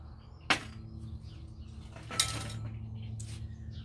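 Herbs and roots for fire cider dropped into a glass jar: two distinct clattering knocks a couple of seconds apart, each a brief bright clink with a short rattle, over a quiet room hum.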